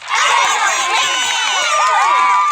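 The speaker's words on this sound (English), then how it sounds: "Let's all give Lincoln a round of applause for stepping up his green game and doing his part." A loud crowd cheers and hollers in a burst of excited shouting, with children's voices among the whoops, lasting a couple of seconds.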